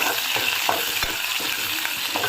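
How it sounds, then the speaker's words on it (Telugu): Sliced onion, curry leaves and dried red chilies fry in hot oil over tempering seeds, making a steady close sizzle broken by occasional crackles and stirring scrapes. "ఉల్లిపాయ దోరగా వేగితే సరిపోతుంది."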